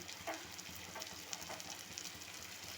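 Red chilli, turmeric and garam masala spice mixture sizzles steadily in a hot pan over high flame while being stirred, a soft continuous frying hiss with faint scraping touches throughout.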